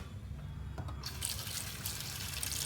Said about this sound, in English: So I've filled in the sink with a little water.